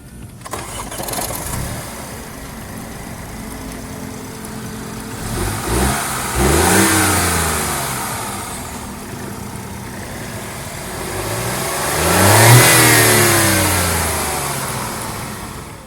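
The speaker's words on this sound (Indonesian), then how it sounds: "kita dengerin raungan mesin 3 silindernya" A 2020 BMW X1 three-cylinder engine starts and then revs twice in sweeping bursts that rise and fall, heard fairly close and alone.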